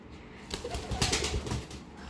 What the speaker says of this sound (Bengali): দেখি এটাকে ঘরের ভিতরে এখন উড়াল দেওয়াবো